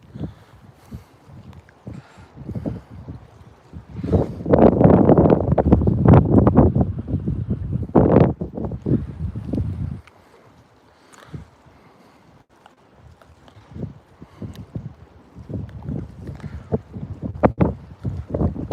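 Gusty wind buffets the microphone at a bay in Bayside, Texas during a fishing outing, loud roaring bursts rising and falling in waves, strongest midway, with calmer gaps between gusts.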